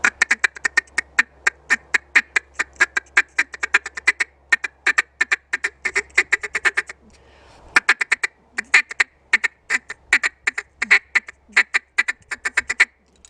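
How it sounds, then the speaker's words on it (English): A duck call blown in a slow feeder cadence: long runs of short, clipped quacking notes in a steady chatter, briefly paused midway, then resuming, loud and close with no talking. "So this is what like a slower feeder call that I normally use should sound like"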